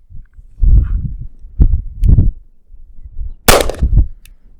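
A handgun fired double action, a pistol with thinner grips, gives several sharp reports at uneven intervals, one noticeably louder and brighter near the end, with no talk.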